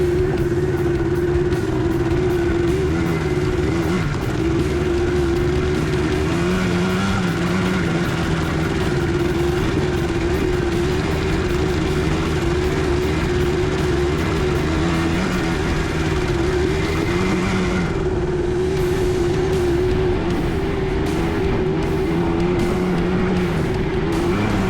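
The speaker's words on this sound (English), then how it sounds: "And with the diff lock engaged, Shawnee takes the 2x4 Isuzu up this treacherous hill." A 2x4 Isuzu pickup with its diff lock engaged climbs a steep, rough dirt hill, its engine droning loud and steady throughout with slight shifts in pitch as it labours and strains, and no voices.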